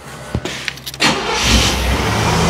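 A 1989 Chevrolet Caprice engine cranks with a few brief clicks and turns, then catches and settles into a steady idle, heard up close with no talking.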